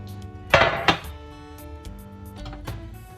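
A metal baking tray being handled in a home kitchen while making a sweet pastry case: two sharp, close metallic clanks, then quieter knocks and light clinks, alone with no talk.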